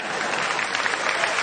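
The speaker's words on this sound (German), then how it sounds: "Ist doch wohl ein Applaus wert." A live comedy audience at a German year-in-review stand-up show breaks into applause, a dense, steady wash of clapping that stays even and fairly loud throughout.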